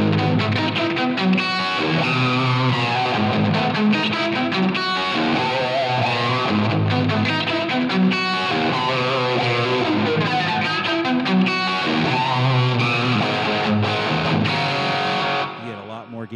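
A heavily distorted electric guitar through a Line 6 Helix plays chunky, sustained riffs continuously, the crunchy high-gain tone dropping off slightly near the end.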